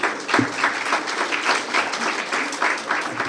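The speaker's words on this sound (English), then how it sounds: "Let's give the Assemblyman a round of applause" An audience applauds an Assemblyman at the Torrance mayor's State of the City address, giving a dense, steady round of clapping that holds for a few seconds at moderate loudness.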